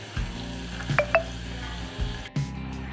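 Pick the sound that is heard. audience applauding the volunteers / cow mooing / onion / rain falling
onion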